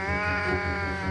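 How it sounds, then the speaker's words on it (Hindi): A single sustained, tonal crying call rings out loud and close, a kitten's plaintive wail holding steady for about a second with no other sounds around it. "ये तो एक बिल्ली का बच्चा रो रहा है"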